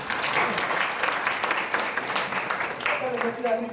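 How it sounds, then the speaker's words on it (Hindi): An audience claps steadily throughout at a Hindi-language seminar on a bank moving into the metaverse, a dense continuous patter of many hands at moderate distance, with some murmuring under it. "उस पर ताली बजा दो"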